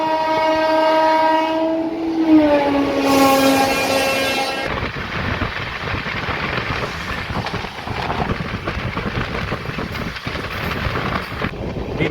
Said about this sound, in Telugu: ఒక గూడ్స్ ట్రైన్ అయితే బయలుదేరుతుంది